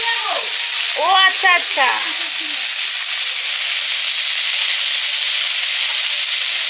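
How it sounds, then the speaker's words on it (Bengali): Curry sizzles steadily while frying in a pan, a dense continuous hiss filling the whole stretch, with a brief voice talking over it near the start. "এবারে তরকারিটা রান্না করছি।"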